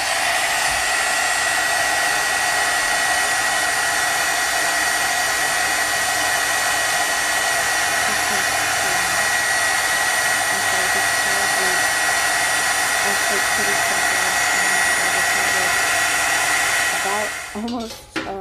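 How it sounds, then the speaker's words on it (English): A handheld heat tool blows steadily and loudly, melting embossing powder for a papercraft heat-embossing project; the whooshing hum runs continuously for about seventeen seconds before cutting off abruptly near the end. "I'm heating it with my heat tool now to melt the embossing powder"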